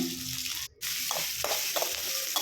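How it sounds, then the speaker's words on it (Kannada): A South Indian tempering of mustard seeds, curry leaves, capsicum, Byadgi chillies and onion fries in oil, a close, dense sizzle with a brief dip and small scraping bursts of stirring. "ಸಾಸಿವೆ, ಕರಿಬೇವಿನ ಸೊಪ್ಪು, ಕ್ಯಾಪ್ಸಿಕಮ್ಮು, ಬ್ಯಾಡಗಿ ಮೆಣಸಿನ್ಕಾಯಿ, ಈರುಳ್ಳಿ ಫ್ರೈ ಮಾಡ್ಕೊಳ್ಳೋಣ"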